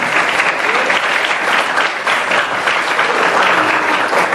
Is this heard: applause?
yes